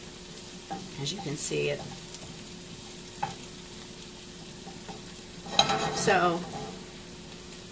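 A cheese tortilla frying in a new, very slippery pan gives a soft sizzle with scraping and stirring bursts near the start and again toward the end, while a person speaks briefly over it.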